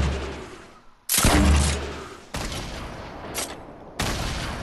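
Explosive shots from a Fortnite weapon ricochet off surfaces in several loud, sharp blasts, each followed by a trailing rumble, spaced about a second apart.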